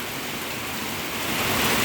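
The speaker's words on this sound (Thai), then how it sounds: "ฝนตกค่ะ" Steady heavy rainfall, a dense continuous hiss of drops on surfaces that swells slightly toward the end, with no voices.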